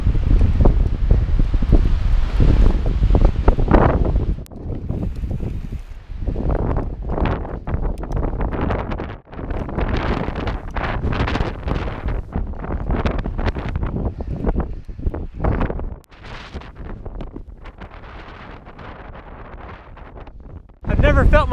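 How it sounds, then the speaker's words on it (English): Strong, gusty wind near the top of a mountain biking climb on the Tahoe Rim Trail, roaring against the microphone in loud surges that rise and drop, with brief gaps between gusts. "Hear the hellacious wind? Means we're close to the top."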